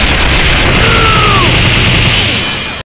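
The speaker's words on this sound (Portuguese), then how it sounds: "dá vários tiros com os mísseis pequenos lá e depois dá um tiro com um raio gigante" Maxima in a King of Fighters game unleashing a volley of small missiles followed by a giant beam: loud, continuous blasting bursts and booms with a rising whine, cutting off abruptly at the end.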